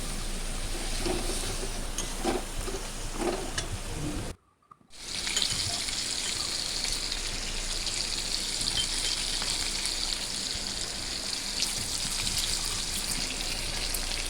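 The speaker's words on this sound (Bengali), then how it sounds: "মশলাটা ভালোভাবে যতক্ষণ না ভাজা হয় ততক্ষণ পর্যন্ত আমি কিন্তু গ্যাসটাকে সিমে রেখে আমি মশলাটাকে কষাতে থাকব" Steady close sizzling of spices (chilli powder, turmeric, cumin, coriander powder) frying in a pan over low gas for methi chicken, a continuous hiss broken by a brief dropout partway through.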